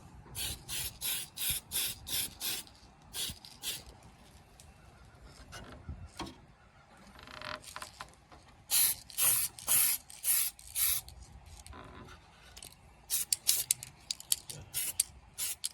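Bursts of spray paint hissing onto an RC car body, orange being laid down in layers: a rhythmic series of short close sprays, a pause with rubbing and handling noises, then more quick bursts.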